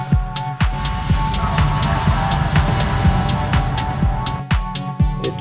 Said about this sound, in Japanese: ホールのリバーブ。